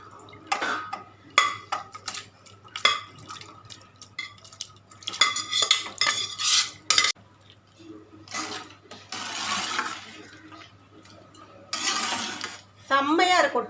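Pieces of goat head meat tipped into a cooking pot and stirred, with intermittent metallic clinks of a spoon against the pot and bursts of scraping, fairly close, separated by brief quiet gaps.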